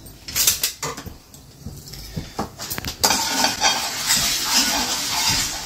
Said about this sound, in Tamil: மிளகா வறுக்கிறது கொஞ்சம் கஷ்டமாக தான் இருக்கும்.